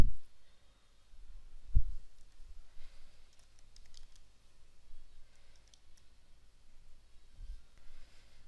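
Soft keyboard typing at a computer during web design work in Adobe Muse CC, with quiet scattered keystrokes and clicks in a near-silent room, no talking.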